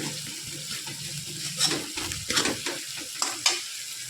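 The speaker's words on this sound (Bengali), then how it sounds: "এটা 5 মিনিট মতো ভাজা ভাজা হয়ে গেছে।" A ground paste of tomato, garlic, red capsicum and onion sizzles in a pan, with a soft continuous fry punctuated by several louder scraping stirs and spatters.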